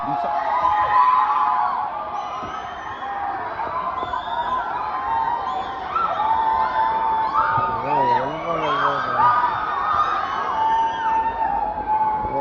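Crowd cheering and shouting at a college freshers' party at Deeksha Vidyanagar, a steady roar of many voices, whoops and excited yells that stays dense and loud throughout, with a brief louder swell of shrieks partway through.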